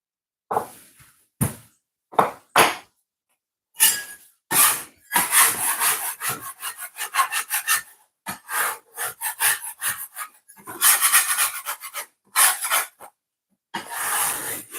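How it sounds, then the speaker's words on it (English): Repeated scraping strokes across a cutting board to clear stuck flour while making Jamaican steamed callaloo; short bursts of rubbing come in uneven runs with brief pauses, close and fairly loud, no talking. "I'm just scraping the cutting board by the excess flour that stick on it"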